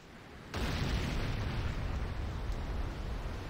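A Hand of Nod building explodes in the game Renegade: a sudden, loud, broad blast starts abruptly and then settles into a sustained roaring rumble lasting several seconds.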